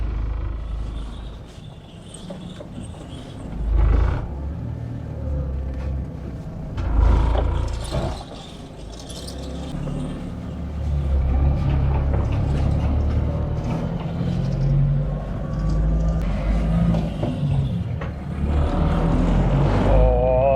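A steady low engine rumble inside a moving vehicle, rising and falling with acceleration, with road noise throughout and no voices.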